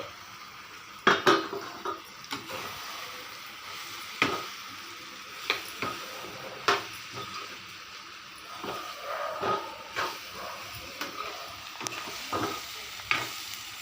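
Masala and bondas being stirred in a pan for a bonda curry, with a steady sizzle under repeated scraping and clinking of a spoon against the pan, close and fairly quiet with no talk.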